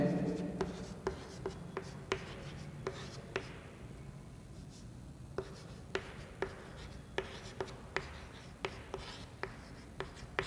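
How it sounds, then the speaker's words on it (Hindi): Marker or chalk strokes on a board during a microbiology class, a steady series of sharp taps and short scratches at an even pace, close and clear, with no voices. "इसको हम ऊपर लिख देते हैं आगे"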